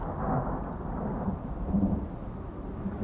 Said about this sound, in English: Now I know how my dogs feel when there's a thunderstorm going on outside